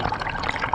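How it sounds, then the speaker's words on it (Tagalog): Water of a strong river current rushes and gurgles at a dive spot, a continuous close liquid churn over a brief moment with no talk. "Yan lakas ng agos niya."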